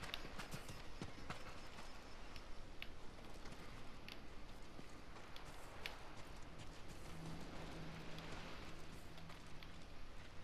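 A horse in Ghost of Tsushima trots with steady hoof clip-clops over a busy, rain-like ambient wash, faint and continuous, with no voices.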